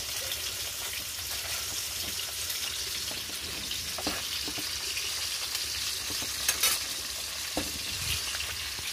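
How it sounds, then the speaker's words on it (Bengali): Hilsa fish frying in a pan at home gives a steady, dense sizzle that fills the whole stretch, with a few faint knocks and stirring sounds rising briefly above the constant hiss. No one speaks. "এখন আমার মাছটা ভাজা হয়ে যায়"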